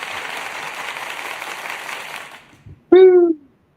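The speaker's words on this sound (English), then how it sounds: "Let's get a little round of applause from me." A small group gives a short round of clapping that fades after a couple of seconds. A single loud voiced whoop follows.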